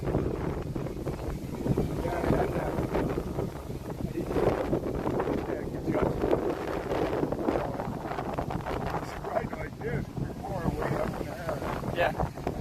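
Steady outdoor wind buffets the microphone continuously near a trailer by the roadside, a broad rushing roar that persists throughout beneath conversation.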